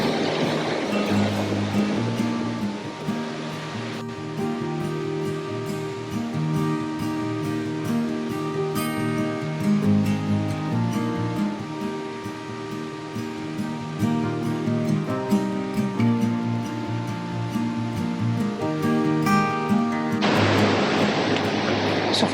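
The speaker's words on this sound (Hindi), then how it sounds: "ये एक और झरना है, इसे क्रॉस करना है।" A Himalayan waterfall on the trek to the Valley of Flowers pours out a steady, close rush of water. It is loud and clear at the start and end, and largely covered by music through the middle.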